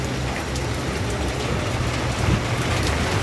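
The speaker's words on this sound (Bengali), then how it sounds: "জোর বৃষ্টি এসে গেছে, প্রচণ্ড বৃষ্টি এসে।" Heavy roadside rain pouring down, a loud dense steady hiss of drops hitting surfaces close by, continuous throughout without talking.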